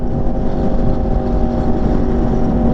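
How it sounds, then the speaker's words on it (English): Yamaha R1 sport motorcycle engine running loud and close, a steady, heavy buzzing drone with wind rush over it and no pauses. "The sounds this R1 makes, bro."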